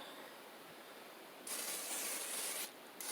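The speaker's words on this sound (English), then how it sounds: "you spray that on, and it feels nice and cool" Liquid bandage spray hisses onto skin as a poison oak remedy: a steady, close burst lasting about a second after a quiet stretch, then a brief second spurt at the end.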